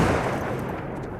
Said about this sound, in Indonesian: tiba-tiba terdengar suara tembakan dari arah gedung.